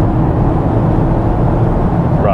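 A 2014 Audi SQ5 3.0 V6 TDI diesel SUV with an 8-speed automatic accelerating hard, heard from inside as a loud, steady, deep engine drone with heavy road and wind roar.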